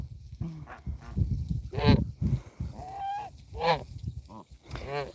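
A pet gander honks repeatedly at close range, loud harsh calls in irregular bursts with softer grunts and shuffling between them.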